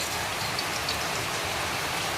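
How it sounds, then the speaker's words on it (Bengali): Heavy rain pours in a dense, even hiss that fills the short stretch without a break, close and loud, with no voices. "প্রচণ্ড বৃষ্টি।"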